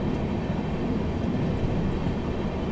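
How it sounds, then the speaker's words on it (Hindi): The 12486 Sriganganagar–New Delhi superfast express pulls away from the station, a dense steady rumble of rolling coaches close by, unbroken throughout with no voices. "यहाँ से डिपार्ट होती हुई अपने क्रॉसिंग से अपनी ये ट्रेन"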